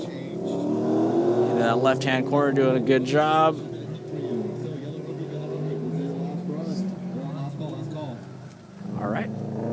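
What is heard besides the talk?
Subaru BRZ car accelerating through autocross course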